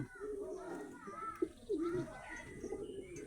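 Female pigeons in a cage coo in soft repeated rolling phrases, close and steady, with a faint voice in the background.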